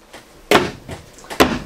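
A 2024 Grand Design Imagine AIM 15RB RV cupboard door knocks shut in a few sharp, close wooden clunks with short gaps between them.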